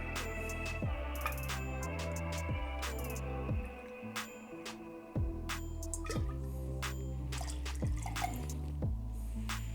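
Campari being poured into a cocktail glass, with glugging liquid, dripping and small clinks of glass close up, arriving in a few separate bursts with a short pause in the middle.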